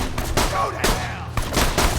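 Rapid gunfire in the Borderlands 2 video game, repeated loud bursts of shots close up in quick succession with game effects between them.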